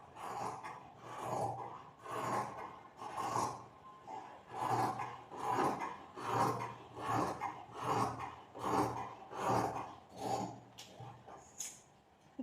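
Scissors cut through folded fabric for a baby frock, making a regular series of rasping, crunching strokes about once a second, close and fairly soft, with no talking.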